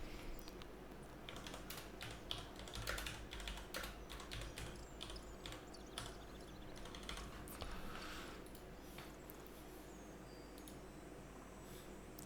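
Steady clicking on a computer keyboard while writing a game macro for Pantheon: Rise of the Fallen, quiet and close, with bursts of rapid keystrokes and short pauses, and no talking.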